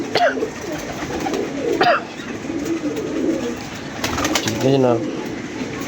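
Pigeons coo in the open air during a pigeon-fancier visit, including prized striped (patti-wala) birds, their soft throaty calls rising repeatedly around a man's brief remark.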